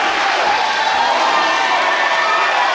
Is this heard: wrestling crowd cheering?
yes